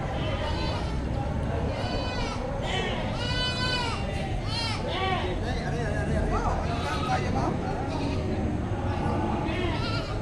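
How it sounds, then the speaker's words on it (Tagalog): Young lambs bleat repeatedly in a crowded livestock pen at an animal market in Padre Garcia, with goats nearby, over a steady babble of people talking close by. "Ganda, mga bisirong tupa."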